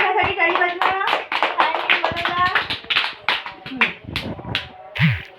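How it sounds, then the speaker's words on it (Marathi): Children in a classroom clapping their hands, uneven bursts of claps mixed with voices talking and chattering, close by. "कृष्णासाठी टाळी वाजवा."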